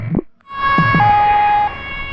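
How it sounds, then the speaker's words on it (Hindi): An ambulance siren from the Plague Inc. video game sounds as a loud, steady electronic tone for about a second after a brief dip in sound. "एम्बुलेंस की आवाज़ आ रही है"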